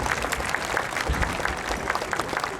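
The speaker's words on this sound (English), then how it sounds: "Big round of applause for our faculty." Applause for high school faculty at a 2016 graduation ceremony, a steady wash of clapping from a large seated crowd, moderately loud and continuous with no voices over it.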